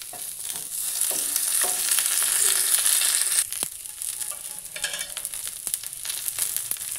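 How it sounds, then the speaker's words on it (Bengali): Mustard seeds, white cumin, curry leaves and onion sizzling in white oil, a bright loud hiss for the first few seconds that settles into softer frying with scattered crackles and stirring knocks. "ফোড়নে আমি একটু সর্ষে দিয়েছি আর দিলাম একটু সাদা জিরে আর দিয়েছি একটু কারি পাতা আর পেঁয়াজ"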